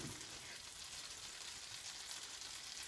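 A steady, soft hiss of base risotto frying in a hot pan for bacon and mushroom risotto, an even, continuous sizzle with no talking.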